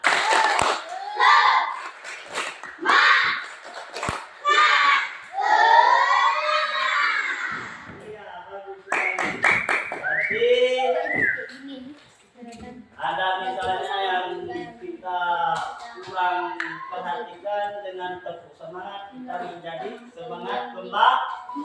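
Children in an Indonesian classroom perform a rhythmic spirit clap led by their teacher, with loud bursts of clapping mixed with shouted chanting and excited young voices close by.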